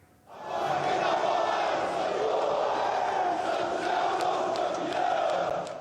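Santos supporters chant and sing together at Pelé's overnight funeral vigil, a dense, loud, sustained crowd roar that swells in after a quiet start and holds steady, with occasional claps and shouts.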